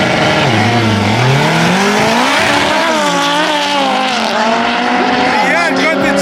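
At the Saldanha Drags 2024, an all-wheel-drive K20 car and an Audi Quattro RS3 launch in a drag race, engines revving hard and climbing through the gears. The roar is loud and close, with a voice audible over it.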